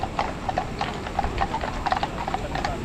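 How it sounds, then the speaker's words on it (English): Police horses walk on a city street, their hooves striking the hard surface in an uneven, overlapping clip-clop at close to moderate distance, with no talk. "I can only show you the police horses at the moment"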